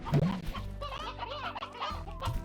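A rooster clucks in the video game Slime Rancher: a short, loud run of nasal clucks and squawks close up, with no talk over it.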